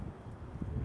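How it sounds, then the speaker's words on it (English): Wind gusts buffet the microphone on a New York City street, a brief, continuous low rumbling roar with no voices, close and fairly loud. "Super windy."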